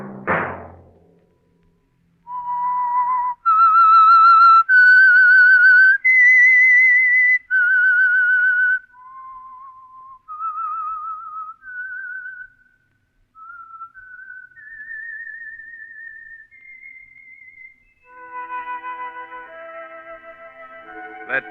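A single person whistles the slow, eerie theme of the old-time radio show The Whistler, sustained notes rising and falling, clear and close, with a sharp thump at the very start.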